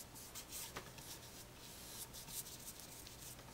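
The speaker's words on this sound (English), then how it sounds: "I'm just going to brush that over the entire top of the table." A brush drags varnish across a table top, quiet repeated swishing and rubbing strokes at close range, soft and continuous with no talking.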